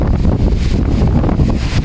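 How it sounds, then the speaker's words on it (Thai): Strong autumn wind blows outdoors with dense, steady broadband roar and buffeting against the microphone, leaves rustling and swirling throughout, loud and close for the whole stretch. "โอ้ยโอ้ยโอ้ยลมลมลม"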